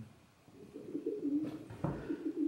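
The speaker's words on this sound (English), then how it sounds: "Pigeons flying around." Pigeons cooing inside an old mine shaft beneath Tombstone, Arizona, soft low throaty coos with a brief flutter, somewhat distant and reverberant, with no talk.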